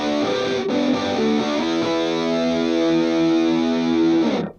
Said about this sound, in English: Once again, the digital metalizer, our pedal of the week.